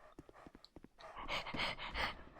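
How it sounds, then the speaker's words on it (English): Dogs in Dark Souls 2 pant and huff in quick rhythmic breaths, starting as short separate puffs then swelling into denser, louder overlapping panting and snarling from several animals nearby. "There's like 6 dogs in here, man."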